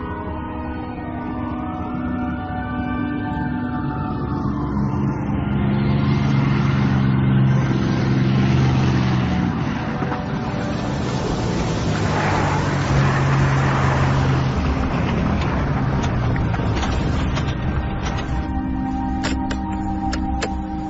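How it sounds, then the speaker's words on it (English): A loud seaplane engine drone shifts pitch as the engines throttle back for landing on water, rumbling steadily with a rushing, washing noise throughout and no voices. "Throttling back the engines,"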